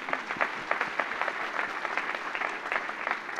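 A church congregation at a couples' conference applauds steadily, with a dense patter of many hands clapping at moderate distance for several seconds and no talk over it.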